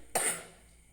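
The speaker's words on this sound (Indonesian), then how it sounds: "Ibu mau batuk sebentar ya" A single sharp cough from a sick woman, close and sudden, fading quickly into quiet room tone.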